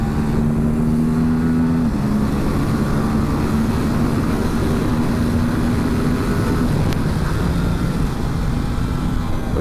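Aprilia RS 457 sport motorcycle engine heard while riding in sport mode with the most aggressive engine mapping, a steady loud drone with a shifting tone and constant wind noise throughout.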